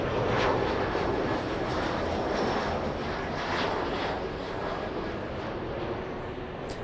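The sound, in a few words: Cessna light aircraft flying by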